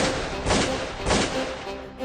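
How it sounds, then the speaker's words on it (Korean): Gunfire effect representing Japanese military police opening fire on a crowd of demonstrators, heard as two or three loud, heavy booming shots over a dense rumbling background, with no voices. "일본 헌병대가 발포를"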